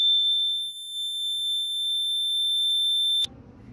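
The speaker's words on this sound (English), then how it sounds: "The alarm is ringing." A loud, steady, high-pitched electronic alarm tone from a water level indicator kit rings continuously for about three seconds, then cuts off abruptly, leaving faint low rumble.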